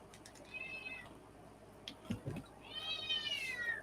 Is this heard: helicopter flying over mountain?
no